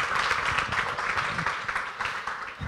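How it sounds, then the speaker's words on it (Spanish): Audience applause greets a speaker taking the stage at an Argentine architects' day celebration, a steady wash of many hands clapping from start to finish with no voices over it. "lo recibimos a Daniel con un aplauso"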